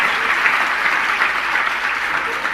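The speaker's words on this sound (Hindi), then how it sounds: "बजाओ ताली" An audience at a Hindi spiritual discourse claps steadily, a dense, even wash of applause from many hands, loud and sustained without a break.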